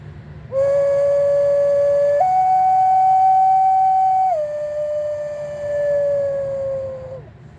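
A flute plays a bright, sustained bird-like whistle held as long warbling tones that step up and down in pitch, loud and close, with no talking.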